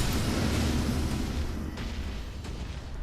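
An Ash of War attack in Elden Ring sets off a heavy explosion followed by a wave, a loud, dense rumbling roar that rolls continuously and slowly eases off, with no voices.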